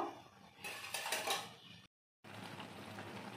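A metal lid clanks and scrapes onto a pot of mixed vegetable curry, a short burst of rattling cookware close by, then a brief gap followed by steady low kitchen noise.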